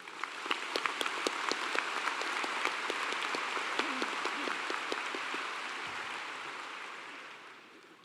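A commencement audience applauds with sustained clapping that swells and then slowly fades, a broad wash of many hands heard from a distance in a large venue.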